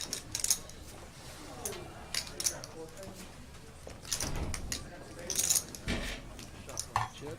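Clay poker chips clack and riffle in short bursts at a no-limit hold'em table, scattered clicks spread across the moment while people talk nearby.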